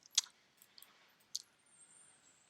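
Single sharp computer mouse click near the start of a quiet stretch, followed by a couple of fainter clicks and a second distinct click later, recorded close with almost no background noise.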